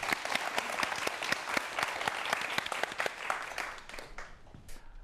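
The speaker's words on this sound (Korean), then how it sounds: "강연 큰 박수로 함께 하겠습니다" An audience claps for a lecture on viruses, a dense burst of many hands that holds steady and then thins out toward the end.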